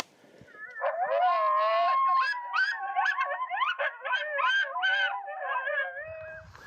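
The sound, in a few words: electronic predator call playing coyote howls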